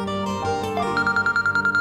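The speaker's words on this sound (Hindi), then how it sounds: "तैमूर का फोन है।" A phone ringing indoors in a Pakistani drama, with a repeating electronic ringtone of short even pulses after a brief musical lead-in, heard alone without talk.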